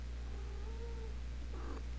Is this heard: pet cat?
yes